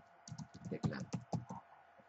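Brief burst of computer keyboard typing, a quick run of about a dozen close, crisp key taps in uneven rhythm, heard alone without speech.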